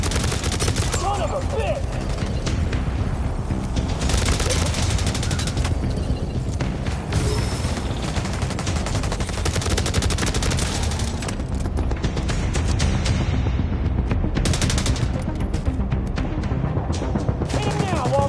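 Gunfire in the mobile shooter Division Resurgence, dense continuous bursts of automatic weapons and booming shots throughout, with shouted voices over the battle.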